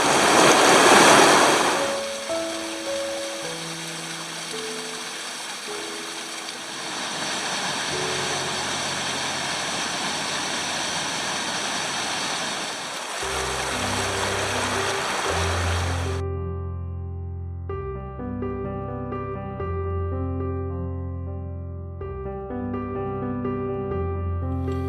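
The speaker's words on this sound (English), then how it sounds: "Another water crossing, Clark Creek." Clark Creek rushing across a hiking trail on the Timberline Trail around Mt. Hood, a steady broadband water roar close by, with a tonal, music-like passage taking over near the end.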